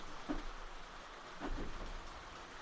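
Steady rain falls throughout, a soft even hiss with a couple of brief heavier splashes or patters standing out, faint and without any talk.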